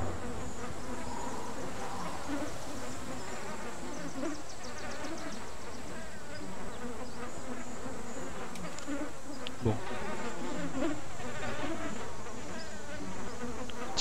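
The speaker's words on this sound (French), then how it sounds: "Petit bruit de mouche là." A fly buzzes steadily and close throughout in the dinosaur survival game The Isle, a continuous insect drone with no talk over it.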